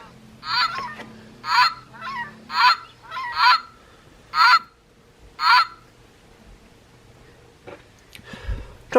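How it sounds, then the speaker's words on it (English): Canada goose call from a Wild Republic toy bird, a series of about eight nasal honks in a fairly regular rhythm, close and clear, followed by a soft rustle. "Canada goose"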